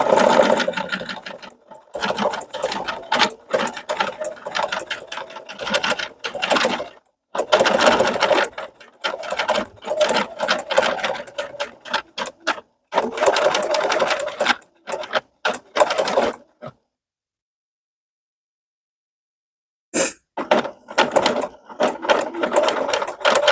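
A sewing machine thread-sketches leaf outlines on a fall-fabric art quilt in close, loud bursts of rapid needle chatter, starting and stopping repeatedly with short pauses and one longer silence.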